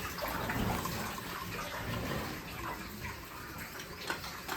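Water gushes and splashes steadily outdoors as it is drawn up from a deep well, a continuous rushing flow with no talking.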